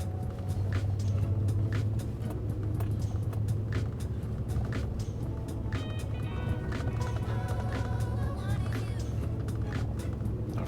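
A car rolls up a bumpy drive toward a speedway, its engine droning steadily inside the cabin while rattles and creaks from the uneven surface come through, with a faint voice mixed in.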